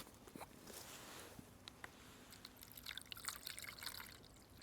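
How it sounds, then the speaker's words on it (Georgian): Faint water trickling and splashing into a container, irregular drips and a soft pour that grows busier toward the end. "ამაში ჩავასხავ ეხლა წყალს"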